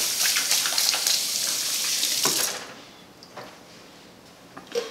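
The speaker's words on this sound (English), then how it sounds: "Give your hands a quick rinse." Tap water runs hard over hands being rinsed at a kitchen sink, a loud rushing spray that shuts off midway, leaving faint drips and a small clatter nearby.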